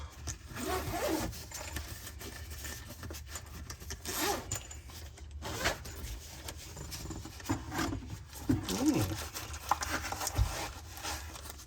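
Zipper being pulled open on the soft case of a Snap-on digital multimeter, several short zipping strokes up close with rubbing and handling noises of the case between them.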